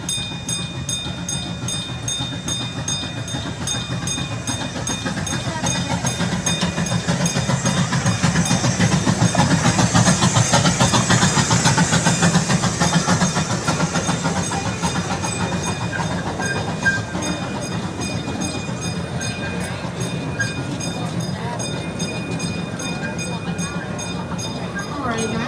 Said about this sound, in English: I was able to catch the train again.